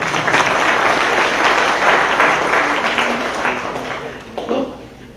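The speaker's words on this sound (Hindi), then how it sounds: "सब लोग फाइनेंस मिनिस्टर जी के लिए जरा ताली बजा दो।" A seated audience at a public speech gives a sustained round of applause for the finance minister. Dense crowd clapping holds steady, then tapers near the end.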